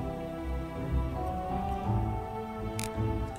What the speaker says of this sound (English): they took the current season 6 music and made it spooky.